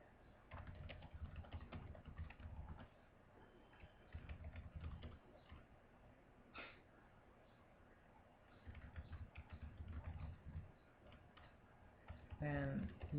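Registration details being typed on a computer keyboard, quick bursts of close key clicks separated by short pauses, fairly faint, with a brief louder clatter near the end.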